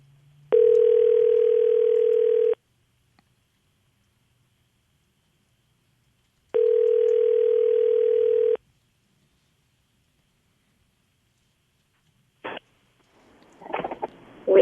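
A phone line rings out during a live radio call-in show. Two evenly spaced, two-second ring tones sound clearly over near silence, followed by faint handling noises.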